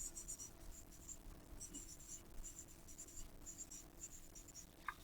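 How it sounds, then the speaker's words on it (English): Someone writes a name on paper in a classroom, producing soft, repeated scratchy strokes in short bursts over a quiet room hum, with no talking. "So I just wrote my name, Mrs. Bodden."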